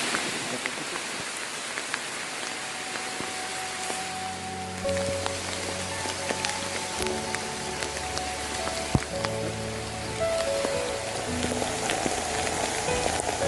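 Steady rain falls on a muddy clay mountain trail on Mount Ciremai, a soft continuous patter and hiss with scattered louder drops, faint and even, with a sharp knock partway through and no speech.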